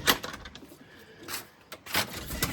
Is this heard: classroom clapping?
no